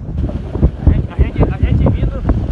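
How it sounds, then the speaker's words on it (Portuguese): A strong wind gust sweeps across the Araguaia River near a long bridge at Itacaiú, buffeting the microphone in loud, uneven bursts, with people talking faintly underneath. "Aí, a ventania."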